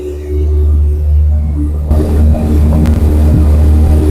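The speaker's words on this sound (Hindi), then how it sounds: "ये थी आपकी 2026 कावासाकी ZX 6R की आवाज" A 2026 Kawasaki ZX-6R motorcycle idling cold during warm-up, a steady low engine drone that picks up into a rougher, busier rev after a couple of seconds, close and loud.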